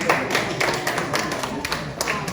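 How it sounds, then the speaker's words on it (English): An audience at a business seminar in Agritech City claps in a short, dense burst of overlapping hand claps, fairly loud and close. "Clap for them."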